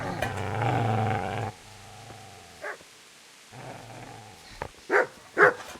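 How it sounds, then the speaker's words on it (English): Dog in the medieval game Kingdom Come: Deliverance, a low sustained growl followed by a few sharp, loud barks toward the end, with quieter snarling between. "Get away, you mutt!"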